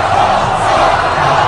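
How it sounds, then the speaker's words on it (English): Stadium crowd cheering for Ron Paul at a 2012 presidential campaign rally, a dense, steady roar of many voices sustained throughout without pause. "the cheering is happening here for Ron Paul in the stadium"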